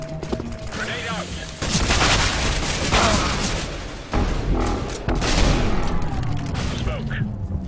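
A video game firefight carries dense, loud gunfire bursts and booming blasts, including a grenade explosion, while a character's voice shouts callouts over the racket.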